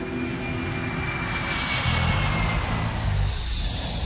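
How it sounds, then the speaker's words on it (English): Aeroflot airliner on its takeoff roll, a broad, steady engine roar with a low rumble that swells and holds loud throughout, no voices. "Flight 593 takes off at 4:39 p.m. local time."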